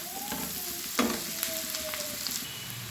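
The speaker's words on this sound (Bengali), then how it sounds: "3-4 মিনিট সময় নিয়ে পেঁয়াজগুলো একটু ভেজে নেব" Onions sizzle gently in a pan for an egg butter malaikari, a soft steady frying hiss broken by a few light clinks and stirring scrapes, close and fairly quiet with no talking.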